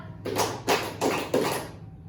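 Four rhythmic group claps ring out in a classroom clapping game, evenly spaced and fairly loud, then fade into quiet.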